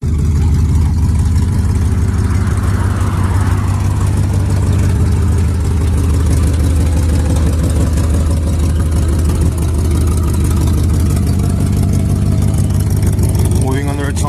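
An old engine, burning off residue inside it, runs and idles with a continuous low, rumbling hum at a farm, while people talk over it throughout.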